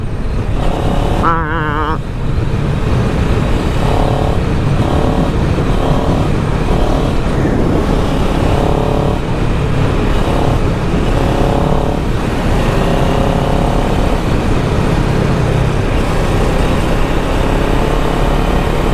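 A 2023 CFMOTO 700 CL-X motorcycle exhaust burbles steadily while riding over gravel, a continuous loud engine drone with wind noise, and a rider talks over it.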